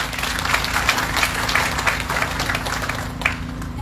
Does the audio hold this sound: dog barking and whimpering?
no